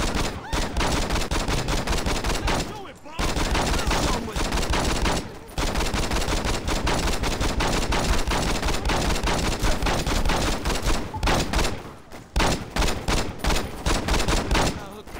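Sustained gunfire in the Saints Row 2 video game, rapid loud bursts running almost continuously with only brief pauses, dense and close, with no one talking over it.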